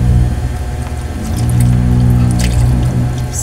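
Water pours into a cooking pot of pinaksiw na tamban set over a flame, a steady splashing flow with faint drips and a low rumble underneath.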